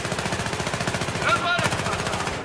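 Rapid automatic gunfire from the video game Battlefield 3, a steady rhythmic burst of shots running through the whole clip with a brief louder crack near the middle, with voices faintly underneath.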